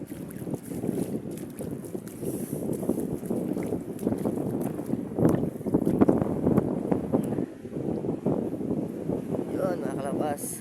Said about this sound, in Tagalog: kasi malakas yung hangin at saka ulan